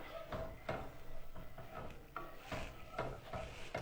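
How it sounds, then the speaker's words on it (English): A spoon stirs shrimp in a coconut, ginger and lime broth made with chicken stock. Faint, rhythmic scraping and sloshing strokes against the pot repeat close by, with a soft simmer underneath. "So I'm just going to give this a stir."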